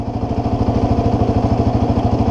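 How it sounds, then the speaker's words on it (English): Quad bike engine running steadily and close, a loud low throbbing pulse with a regular rhythm as the clutch is let out and the quad moves off, with no talking. "slowly release the clutch and the quad will take off on its own"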